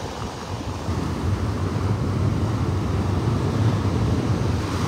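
Ocean surf at the beach on North Hutchinson Island at sunrise, a steady broadband wash of breaking waves mixed with wind noise on the microphone, constant and fairly loud throughout with no voices.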